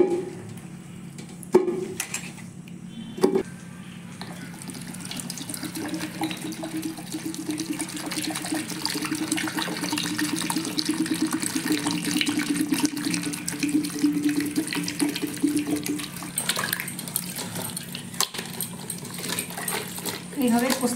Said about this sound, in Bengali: এবার আমি চাল কুমড়োটাকে ভালো জলে ধুয়ে নেব।